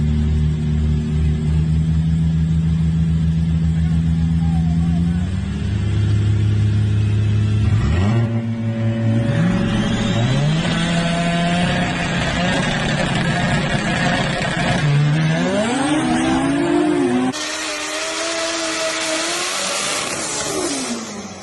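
A Volkswagen GTI race car at a no-prep drag racing event, its engine loud and close, revving through rising gear pulls with sharp shifts as it accelerates hard, no talk over it.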